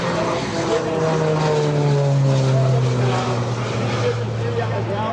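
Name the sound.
twin-engine Grumman warbird aircraft flying low at airshow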